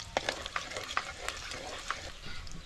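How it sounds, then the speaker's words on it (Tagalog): Garlic browning in a frying pan for chicken-feet adobo, a soft steady sizzle broken by several clicking spatula stirs at an irregular pace. "Una natin yung bawang. Papula-pulahin lang natin ito"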